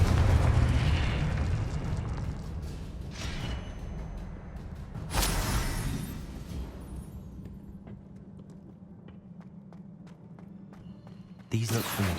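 Confringo fire spell bursts in the Hogwarts Legacy video game: a loud rumbling blast opens, with further booming bursts around the middle and again near the end, over a steady low game drone.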